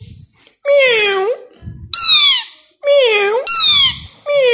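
A plum-headed parakeet imitates a cat's meow, giving four or five loud, close, drawn-out meows in quick succession, with short low sounds between them.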